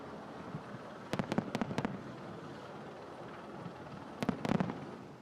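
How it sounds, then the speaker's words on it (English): Fireworks burst at the Vendée Globe finish, sailing race end, two clusters of sharp cracks and pops, a quick volley then a second later, over a steady crowd and harbour murmur. "And we've got the first of the fireworks."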